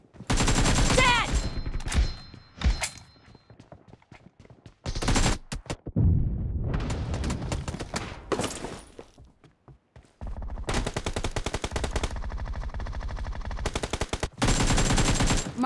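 Video game AKM rifle gunfire, repeated loud bursts of rapid automatic shots separated by short pauses, close and dominant throughout.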